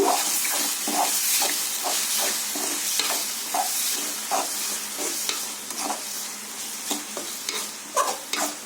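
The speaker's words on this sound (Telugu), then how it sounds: "ఒకసారి కలుపుకుందాము" A spoon repeatedly scrapes and stirs through mushroom curry in a hot pan, with steady sizzling and rhythmic clatter close by and no talking.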